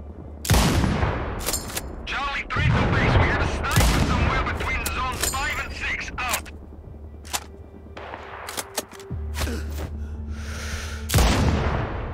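Sniper and other gunfire in a modern first-person shooter video game: a series of sharp loud shots and booms scattered across the clip, with steady game ambience and a low hum between them.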